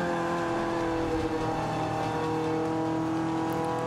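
Race car engine in Forza Motorsport 5 holding a steady, loud droning tone as the driver eases off the throttle, with no talk over it.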